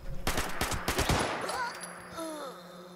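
A powerful gun firing in the Fallout video game, a fast run of heavy shots, close and loud, fading into ringing echoes as a voice murmurs.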